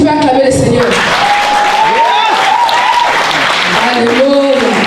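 Church congregation applauding together, a thick wash of clapping with a loud voice calling and singing out over it the whole time.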